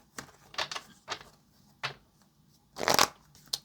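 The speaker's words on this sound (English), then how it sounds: "Let's get one more shuffle." A tarot card deck is shuffled by hand in quick riffling bursts, several short crisp rustles followed by a louder, longer riffle, close and alone.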